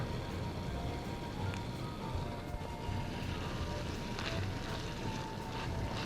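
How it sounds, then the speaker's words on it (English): A continuous crackling sizzle of food frying in a pan, dense and steady with scattered pops throughout. "that's frying up nice"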